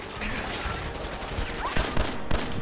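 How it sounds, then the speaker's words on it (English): Rapid bursts of gunfire from shooting enemies in Fallout 4, a dense crackling fusillade of repeated shots that grows sharper and louder toward the end, with no one talking. "Shooting these people up"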